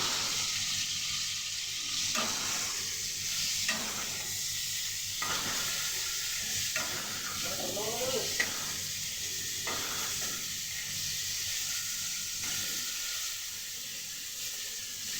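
Chicken pieces with salt fry lightly in a pan, a steady close sizzle with intermittent scraping stirs every second or so, no talking.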